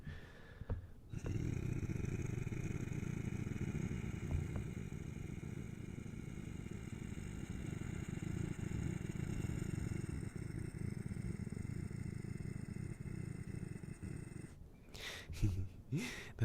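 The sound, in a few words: vocal imitation of engine noise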